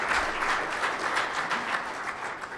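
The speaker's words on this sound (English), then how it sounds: "we really owe them a round of applause" A room full of people applauds steadily, a dense wash of clapping with no voices.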